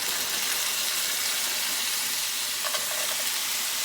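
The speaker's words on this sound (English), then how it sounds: "now I'm going to add to it some onions and green pepper that I already had cut up that were frozen" Frozen chopped onions and green pepper sizzle steadily in a hot pan, a continuous close hiss with a brief crackling burst near the end as the pieces hit the oil.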